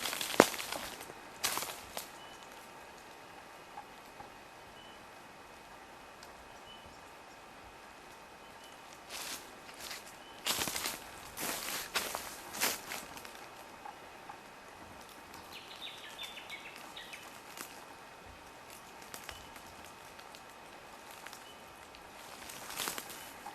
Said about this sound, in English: now all you can hear is our tripod and footsteps.